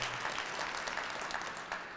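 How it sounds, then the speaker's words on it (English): An audience breaks into applause for Senator Gary Peters at a State of the City event, a brief, steady patter of many hands clapping at a distance. "give him a round of applause"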